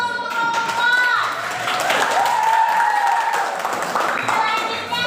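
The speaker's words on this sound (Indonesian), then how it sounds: "kita berikan aplaus untuk kelompok 4" Classroom applause for group 4 rises as a steady patter of clapping hands from a group of students, fairly loud and close, with voices chattering over it.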